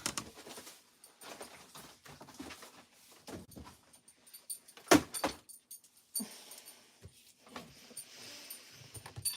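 A dog moves about a room, with soft patters, jingling tags and scattered thumps in irregular bursts and one sharp knock midway, all fairly close and quiet.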